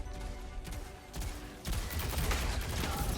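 Hand cannon gunfire in Destiny, a steady dense barrage of shots and explosions layered with game effects, continuous and loud throughout with a heavier surge in the second half.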